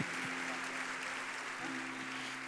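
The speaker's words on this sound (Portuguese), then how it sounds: "Vamos aplaudir essas crianças e os seus pais." A church congregation applauds children and their parents during a Baptist Sunday morning service, a steady, soft wash of clapping filling the room with a faint sustained tone beneath it.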